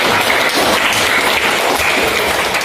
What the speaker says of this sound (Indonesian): tepuk tangan untuk Asmi